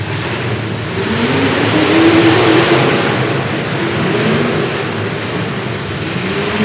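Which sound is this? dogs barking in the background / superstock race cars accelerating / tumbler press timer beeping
superstock race cars accelerating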